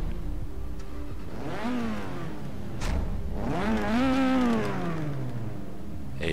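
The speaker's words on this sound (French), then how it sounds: "un petit bruit de moteur pour tester un petit peu l'aspect sonore de ce véhicule" Engine of a BAC Mono race car in the video game Forza Horizon 3, revving twice in rising and falling sweeps over a steady idle, loud and close with no talk.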